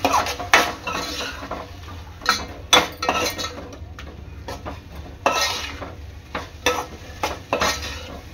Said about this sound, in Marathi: तर हा मसाला आहे ना चांगला तेलात परतून घ्यायचा आहे।